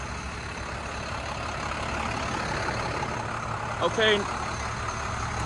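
A 2007 International forestry chip truck with a DT466 engine idles steadily in a low, continuous rumble, with a short sharp mechanical squeal near the end and a brief spoken word.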